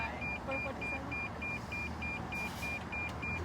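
A car's proximity warning chimes in a steady, evenly spaced series of short electronic beeps while parked close to a wall at a McDonald's drive-through, heard inside the cabin over a low road-noise hum.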